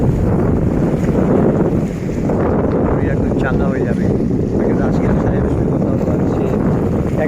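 Strong wind buffets loudly and continuously aboard a local boat off Nha Trang, with a constant roar of wind noise and water, while a person talks over it.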